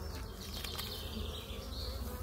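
Steady, close buzzing of honeybees droning continuously, a dense insect hum with no voices.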